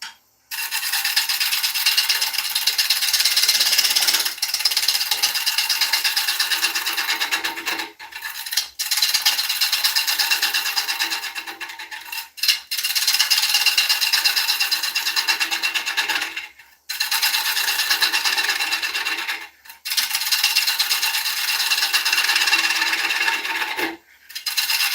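A sharp half-inch gouge cuts wood spinning on a lathe, producing loud, bright rasping and scraping in long sustained passes broken by brief pauses between cuts.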